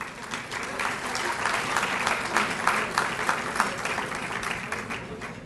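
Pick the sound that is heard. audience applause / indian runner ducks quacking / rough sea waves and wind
audience applause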